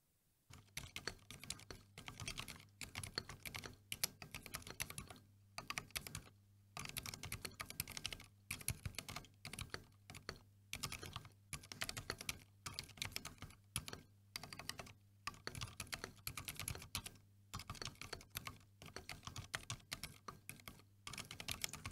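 Fast, steady typing on a Keychron Q6 mechanical keyboard, a close run of soft, muted key clicks in quick bursts with brief pauses, heard alone without talk.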